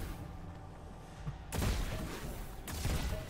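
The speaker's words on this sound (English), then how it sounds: "Like a futuristic shotgun" A futuristic shotgun firing in Destiny 2, two loud, broad blasts about a second apart, each a wide crack with a lingering roar over a steady low game background.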